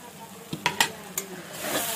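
Fish frying in a pan with salt, turmeric, cumin and a pinch of sugar, stirred with a utensil: a low sizzle broken by a few sharp scraping clicks, with the hiss swelling near the end.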